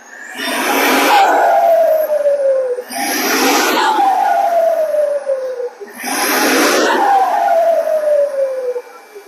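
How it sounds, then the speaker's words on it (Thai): Fuso dump truck tractor head with a 6M60 diesel engine revving three times, each burst climbing hard then falling away with a descending whine, loud and close with no talk. "เดี๋ยวจะให้ มือกล้องของเราเร่งเครื่องให้ดูนะคะ"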